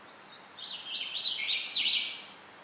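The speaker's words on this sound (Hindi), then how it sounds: "मुझे तो उस चिड़िया का भी नाम मालूम है जो बाहर चहक रही है" A small bird chirping outdoors, a string of bright, quick high tweets and trills of moderate loudness over a quiet background, with no talking.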